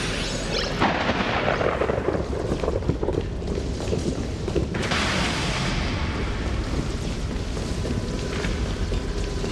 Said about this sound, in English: you need to pay attention to the pattern of the lightning strikes